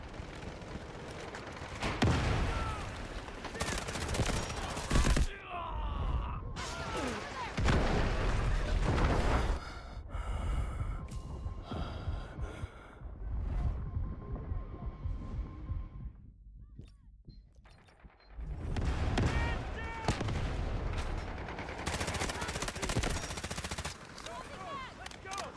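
Artillery barrage and gunfire in the video game Delta Force: dense rapid bursts and heavy booming impacts roll on almost nonstop, loud and close, with a brief quieter lull midway before the barrage resumes.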